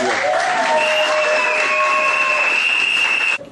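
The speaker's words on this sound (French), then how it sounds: "Applaudissez s'il vous plaît." Wedding guests applaud together, a steady dense patter of clapping with a sustained tonal music line running over it, cutting off abruptly at the end.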